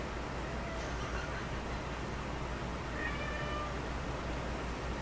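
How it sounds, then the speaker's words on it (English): A cat meows faintly a couple of times, its thin cries barely rising above a loud, steady background hiss that fills the whole stretch. "You silly cat."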